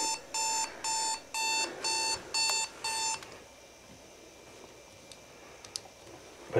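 A digital alarm clock goes off at midnight, sounding six quick, regular electronic beeps up close, then stopping and leaving faint clicks and handling noises in a quiet room.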